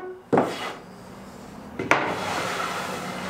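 Two quick brushing sweeps across clamped wooden boards clearing away sawdust, each a close, sharp scraping rush fading into a soft hiss.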